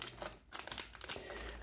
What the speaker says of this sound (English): we will liberate them all from the plastic bag